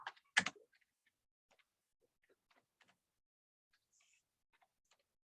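Keystrokes on a computer keyboard pressing Control K: one sharp, close click, then a handful of faint, sparse taps in a quiet room.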